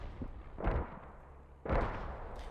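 Mortars firing in the Post Scriptum war game, two heavy booming launches about a second apart, each with a deep low thump and rumbling tail, fairly close and not under any talk.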